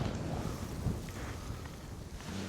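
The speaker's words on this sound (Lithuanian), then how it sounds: "Vėjas šiandien tai neblogas visai." Wind blowing outdoors at a fishing spot, a steady rushing roar buffeting the microphone with low rumbling gusts throughout, no voices.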